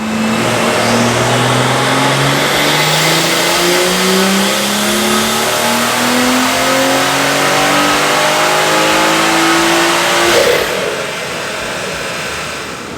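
A BMW B58 engine on a dyno revs hard and continuously through a long full-throttle pull, its rising tone sweeping upward, loud and close, before cutting back near the end.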